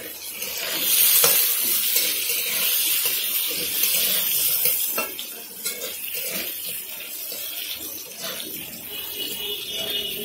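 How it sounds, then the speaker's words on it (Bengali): Long-cut potato pieces frying in oil with tempering spices, a continuous sizzle with scraping stirs and occasional utensil clinks against the pan, fairly close and unbroken by speech. "এবার আলুটাকে ভালো করে একটু লাল করে ভেজে নেব।"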